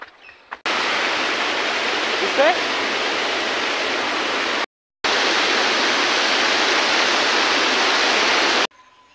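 A steady, loud rush of flowing river water, heard while bathing in the river, fills the scene, continuous apart from one brief break.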